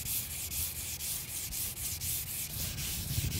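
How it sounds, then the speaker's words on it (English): Varnished wood on a boat being hand sanded with the grain, with steady, even rubbing strokes repeated in a fast rhythm, close and moderately quiet with no talking. "So I'm sanding it mostly with the grain"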